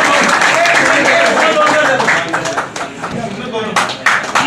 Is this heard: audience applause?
yes